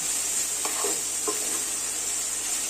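Grated beetroot sautéed in ghee for a beetroot halva, a soft steady sizzle with a couple of brief stirring scrapes, close by and without speech.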